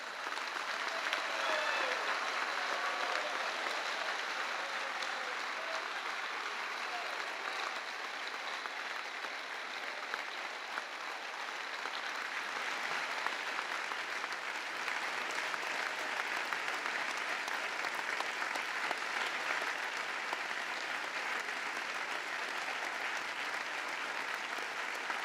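Sustained standing ovation from about 3,300 workers and delegates of popular movements from around the world at a large gathering with the Pope, a dense, steady wash of applause holding at even loudness throughout, with no speech.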